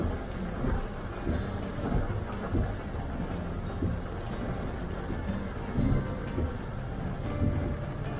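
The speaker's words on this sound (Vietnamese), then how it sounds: "Đây cũng là cái dịp mà các bạn được ngắm cái cảnh mưa ở Sài Gòn." Rain pours onto a busy Saigon street along Cach Mang Thang 8, a steady wash of broadband patter with low traffic rumble underneath and occasional sharp cracks of heavier drops or splashes, close and continuous without any talking.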